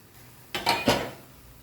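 A metal cooking pot lid clinks and scrapes as it is lifted off cabbage simmering on a low flame, a couple of quick close metallic knocks in an otherwise quiet kitchen.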